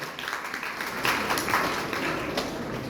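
A school audience claps for guests at a farewell function, giving steady applause throughout with brief louder peaks.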